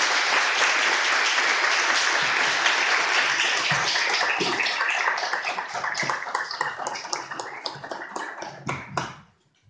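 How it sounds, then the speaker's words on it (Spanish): An audience applauds loudly after a book presentation on Astor Piazzolla and tango, with steady dense clapping that gradually thins into scattered claps before stopping abruptly. "quiero pedirles un fuerte aplauso por la presentación del libro"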